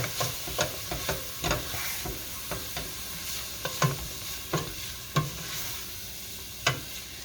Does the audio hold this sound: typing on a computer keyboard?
no